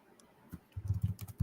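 Quick bursts of typing on a computer keyboard, a brief tap or two and then a run of rapid, fairly close clicks at an uneven rhythm.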